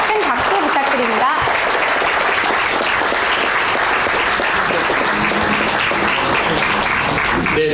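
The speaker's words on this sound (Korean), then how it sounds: "큰 박수 부탁드립니다" A hall audience at a book concert for the book 『반일 종족주의』 claps loudly and continuously for nearly eight seconds, a thick wash of hands with voices faintly audible beneath.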